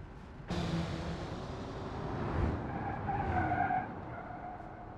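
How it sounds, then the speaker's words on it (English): A BMW car's brakes screech into a loud, close skid that starts abruptly and holds for several seconds, its harsh squeal wavering over a rumbling engine and road noise, with no talking. "Really hear your brakes screeching."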